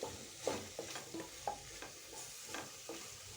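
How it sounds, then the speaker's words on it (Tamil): A spoon stirs masala spices, including sambar powder, in a hot cooking pan for sambar rice. Rhythmic scraping strokes sound close by over a faint sizzle, with no voices. "எல்லாத்தையும் கொஞ்சம் மிக்ஸ் பண்ணி விட்டுக்கலாம்."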